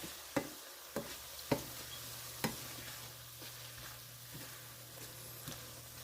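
Apples cooking with brown sugar in a pan sizzle softly while a spoon stirs them, giving several sharp, evenly spaced taps and scrapes over a low, steady hiss.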